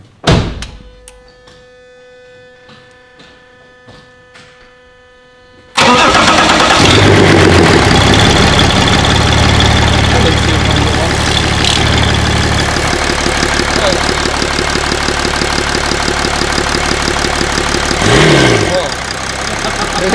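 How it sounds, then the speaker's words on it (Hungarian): A BMW X5 with a freshly swapped engine cranks briefly, then catches and fires into a loud, steady idle that runs on with a deep, even rumble. A short knock or clunk sounds before the start. "Most már indul, és tényleg nagyon szép hangja az autónak."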